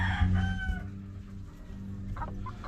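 A rooster crows close by at the start, followed by quieter clucking and farmyard noise.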